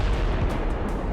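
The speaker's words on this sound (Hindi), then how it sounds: "लड़ाकू जेट जब मिसाइल दागता है तो ईरान के मिलिट्री ठिकानों को एक धमाके में धूल में मिला दे रहा है" Deep, roaring blast from a missile explosion during a fighter jet strike on Iranian military sites, a loud continuous rumble with heavy low-end boom filling the whole moment.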